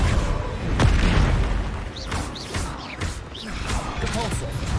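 A Confringo blasting spell in Hogwarts Legacy goes off as a loud booming blast early on, followed by rumbling spell impacts and whooshing magic effects under a spoken voice.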